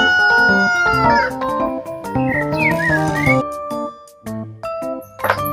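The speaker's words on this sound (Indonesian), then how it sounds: "Ini adalah ayam teman-teman." A toy chicken gives a loud electronic crowing and clucking, a sequence of bright synthetic tones with short jingly bursts, close and steady, followed by a few softer beeps.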